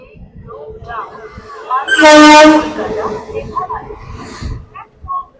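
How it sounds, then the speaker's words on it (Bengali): Balurghat–Kolkata Tebhaga Express train pulling into a station, with a loud, sustained horn blast in the middle rising over steady platform bustle and background voices. "বন্ধুরা ট্রেন ঢুকছে বালুরঘাট কলকাতা তেভাগা এক্সপ্রেস"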